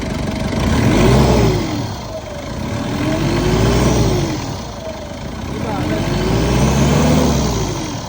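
A second-generation Mitsubishi Montero with a low-power problem is revved in a workshop. The engine rises and falls in three slow swells over a low idle rumble.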